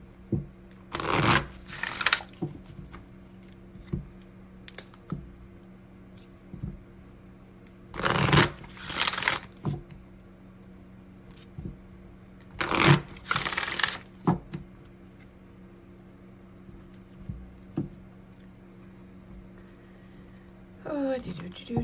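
Tarot cards being shuffled in several loud rustling bursts close by, separated by quieter pauses with light card handling and faint background noise.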